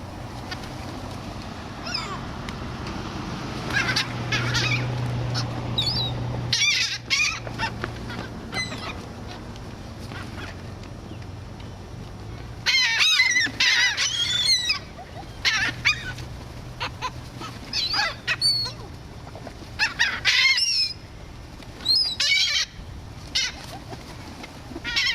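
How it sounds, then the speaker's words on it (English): A crowd of seagulls, including ring-billed gulls, gathering over thrown bread crusts, with loud repeated squawks and calls in clustered bursts over steady background rumble. "A few crusts of bread almost always draw a crowd of seagulls."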